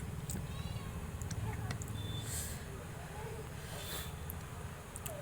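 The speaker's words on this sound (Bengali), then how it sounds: "বিড়াল মাসিটা কেন ডাকছে এত?" A cat meows a few faint, thin times at a restaurant during a rainstorm, nearly buried under a low, steady background rumble and murmur.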